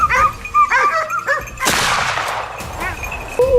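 Hunting dogs in a pack bay and yelp while chasing a wild boar, a run of sharp overlapping barks that gives way to a loud, noisy burst of commotion, then more scattered yelps.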